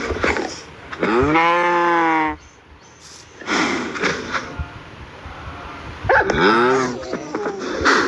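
Cows moo in the video game Minecraft, two long, loud, drawn-out calls separated by a quiet pause, with no talking.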